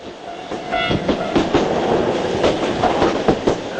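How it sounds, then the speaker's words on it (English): Train rolling into Tokyo station, a steady rumble of rail cars with rhythmic clickety-clack and brief tonal squeals, loud and continuous with no talking. "All of the participants on the train pulling into Tokyo."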